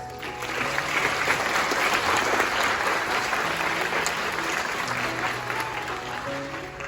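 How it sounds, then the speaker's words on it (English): An audience at a 2022 graduation ceremony applauds loudly and steadily for several seconds, a dense wash of clapping from a large crowd. "Let's give our honored dignitaries a round of applause."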